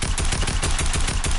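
Rapid automatic gunfire in the Fortnite video game, a loud, dense burst of shots fired in quick repeated rhythm, very close and filling the whole moment.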